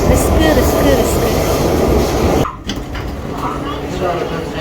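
A Chennai metro train gives a loud, steady rolling rumble that cuts off sharply partway through, leaving quieter station ambience with faint voices in the background.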